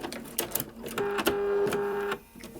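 A domestic sewing machine stitches a quarter-inch seam on quilt piecing, then back stitches, giving a steady mechanical whir with a sustained hum between clicks near the start and end.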